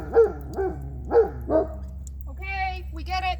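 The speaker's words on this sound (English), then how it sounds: "That's why the dogs are making a big fuss." Several dogs bark in a row outdoors, about four sharp, close woofs in an uneven rhythm, followed by higher whining yips near the end.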